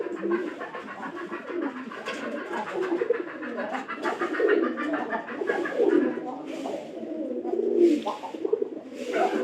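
Pigeons at a loft with eggs and squabs call in a continuous run of low, rolling coos, moderately loud and overlapping, with a brighter fluttery texture on top.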